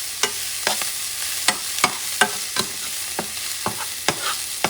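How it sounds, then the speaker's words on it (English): Chopped garlic sizzling in a pan, with a steady frying hiss under repeated scraping strokes of a utensil stirring it, close and alone. "You don't want the garlic to burn, so you're moving things around."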